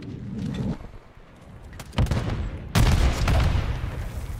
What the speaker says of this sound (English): now I kill myself with my own grenade